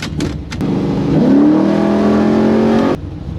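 A 1972 Holden HQ SS with an LS3 crate engine, carburettor and turbo 400 gearbox starts up and revs into a loud, rising, steady V8 rumble close by, then cuts off abruptly.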